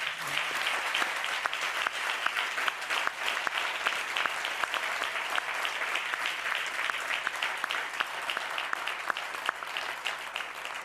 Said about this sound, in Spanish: Le voy a pedir un fuerte aplauso de verdad a nuestros 4 ponentes.